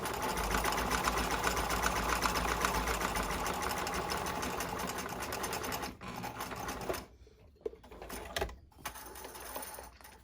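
A sewing machine stitches fabric in a steady, loud mechanical hum for about six seconds, then stops and leaves a few faint clicks and handling sounds of the fabric and foot.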